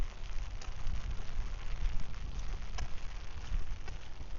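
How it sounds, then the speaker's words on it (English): Steady rain falls during a morning walk at Bangwad Reservoir in Phuket, Thailand, a dense, even hiss that continues throughout with no voices. "Hope you're enjoying the rainy vibes here."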